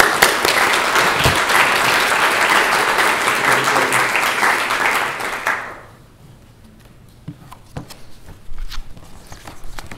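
Audience applause at a research conference opening ceremony welcoming Assistant Minister David Gillespie, dense clapping for about six seconds, then fading to a quiet room with scattered footsteps and small knocks.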